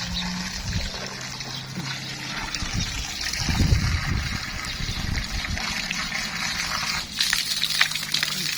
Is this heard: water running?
yes